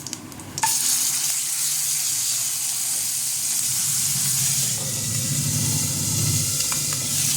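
Whole cumin and ground spice paste hit hot oil in a pan for Bengali-style fish skin curry, bursting into a loud, steady sizzle after a brief quiet start, with faint stirring scrapes near the end.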